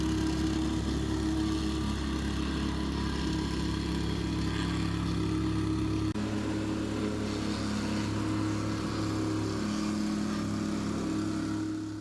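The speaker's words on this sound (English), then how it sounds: "The old man's whacking it now." A plate compactor pounds a first layer of scalpings laid for a concrete floor, giving a steady, loud, close engine drone with rapid thumping that runs unbroken throughout, the tone shifting slightly midway.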